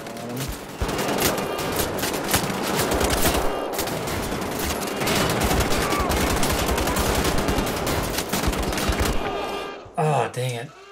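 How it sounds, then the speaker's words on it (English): Shotgun and other gunfire in Wolfenstein: The Old Blood form a dense, loud barrage of rapid blasts that continues for most of the clip before stopping abruptly near the end. "they can be killed by the assault rifle, but it's easier to use the shotgun"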